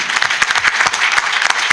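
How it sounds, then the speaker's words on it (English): Audience applause at a small business forum panel, a steady, dense burst of clapping from a crowd that is loud and close for under two seconds, with no speech over it. "I think we should clap over that."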